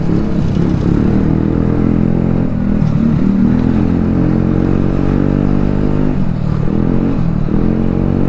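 A motorcycle ridden on the road revs and accelerates, its loud engine note rising and falling in several surges with mechanical clatter, close and continuous with no talking.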